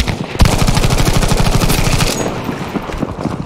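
Rapid, loud automatic gunfire from a first-person shooter video game: a dense stream of close bursts that rattle on for about two seconds, then thin out into sporadic shots.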